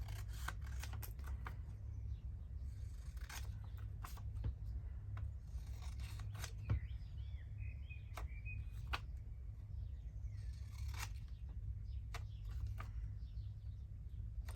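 Scissors cut out paper ephemera for a craft project, a steady run of close, soft snipping and rubbing strokes spread across the clip with no talk.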